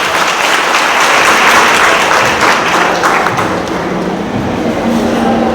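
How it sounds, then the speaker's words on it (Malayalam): A hall audience at a Kudumbashree women's gathering breaks into loud, sustained clapping that stays full and even, easing off slightly toward the close. "കൈയടിക്കൊരു ശക്തി കുറഞ്ഞല്ലോ, അത് പറ."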